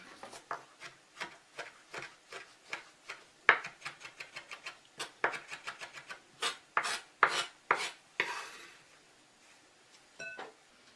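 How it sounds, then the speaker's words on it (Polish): A knife chops rosemary leaves finely on a board in a home kitchen, a brisk run of crisp, close taps that speeds up into quick bursts before a short scraping rub. "I listki rozmarynu bardzo drobno posiekam."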